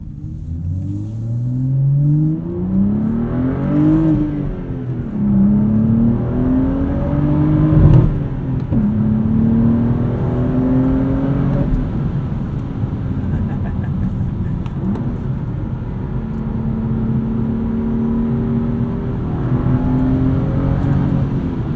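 A modified 2016 BMW 435i with a 6-speed manual drives on the road, its engine loud and close, rising through revs, dropping on shifts and climbing again in steady repeated sweeps with no talk.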